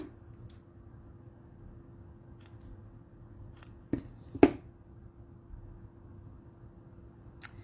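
Scissors snip a ribbon for a handmade sympathy card in a quiet room. There are several sharp, isolated cuts, two louder close snips near the middle and a faint steady hum underneath, with no talking.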